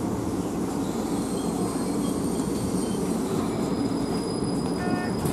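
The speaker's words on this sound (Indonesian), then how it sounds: "Jalur 1 dari arah selatan, kereta api akan melintas langsung." A KRL Commuterline train, a Tokyo 8510-series set, rolls along the elevated track at Manggarai station in a loud, steady rumble, with faint thin wheel squeals rising near the end.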